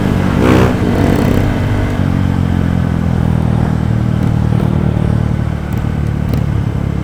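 Motorcycles revving at night, a loud, continuous engine drone with throttle blips and mechanical clatter, sounding close and steady throughout.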